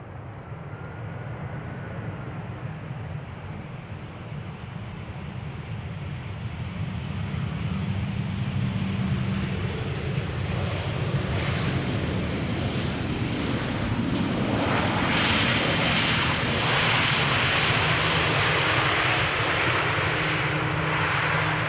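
Aircraft passing over Amsterdam Schiphol Airport, a broad roar that swells from about seven seconds and peaks near the end, heard outdoors with wind buffeting the microphone and no voices.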